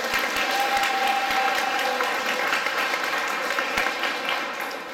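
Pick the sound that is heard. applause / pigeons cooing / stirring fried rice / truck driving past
applause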